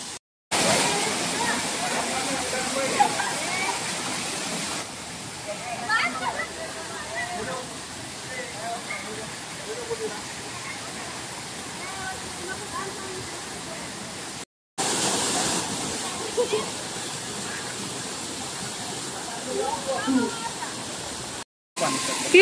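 Rushing water from Kapildhar waterfall roars as a constant broadband wash, loud and unbroken, with faint voices and scattered sounds from people nearby mixed underneath.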